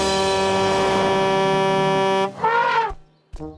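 A cartoon character in a Bob the Builder episode lets out a long, loud, brassy honk imitating an elephant's trumpet, then a short wavering vocal tail and a brief final blast.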